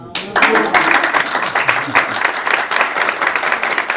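An audience at a talk session on writing and activism breaks into dense, sustained clapping that starts abruptly and carries on steadily throughout.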